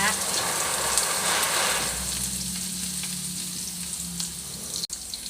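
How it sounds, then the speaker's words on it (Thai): Garlic frying in hot oil in a home kitchen, a steady, fairly loud sizzle and crackle that runs unbroken for several seconds, with a stirring scrape now and then. "ผัดกระเทียมให้หอม"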